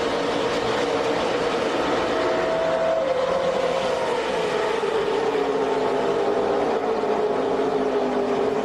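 NASCAR Craftsman Truck Series race trucks, a pack of 36 led by a Ford and a Toyota, roaring past at the start of the 2006 Flex Fuel 250, a loud continuous engine drone with rising and falling pitch sweeps throughout.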